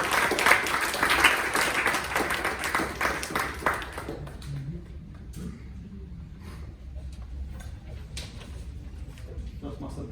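An audience at a Toastmasters evening claps to welcome a speaker, a dense burst of applause for about four seconds that thins into scattered claps and room noise, with faint voices underneath.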